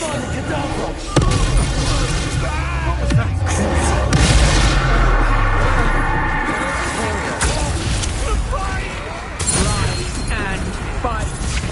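Spell blasts and booming impacts in Hogwarts Legacy combat, with repeated loud bangs and crashes over dense game effects and shouted voices throughout.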